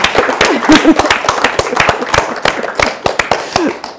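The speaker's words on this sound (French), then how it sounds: "Eh bien, on peut l'applaudir, Mathilde." Audience applause for a speaker at a regional three-minute thesis contest final, loud close sharp claps from many hands in an uneven patter, with a voice briefly heard over them.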